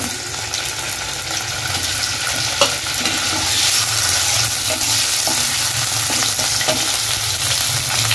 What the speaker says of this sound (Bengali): পনিরগুলো হালকা ভেজে নেব, খুব বেশি ভাজবো না।